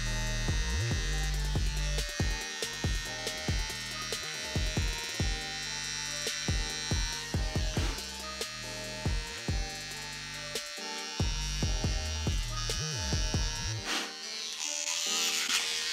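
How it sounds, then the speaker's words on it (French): An electric razor shaves eyebrows up close. Its steady buzzing drone dips and wavers in pitch as it presses against skin, with brief pauses. "Je suis vraiment en train de me raser les sourcils pour ressembler à Eminem."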